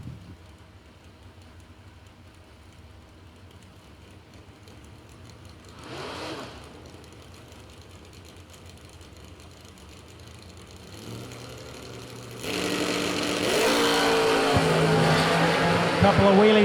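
Two drag race cars launch side by side in a heads-up race, their engines building from a distant drone into a loud, rising roar that swells sharply toward the end, with an announcer talking over the start.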